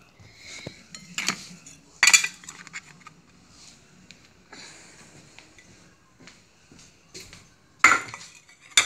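Dishes and metal cutlery clink and clatter in scattered bursts while cat food is prepared in a kitchen, with several sharp close knocks among softer handling sounds and brief quiet gaps.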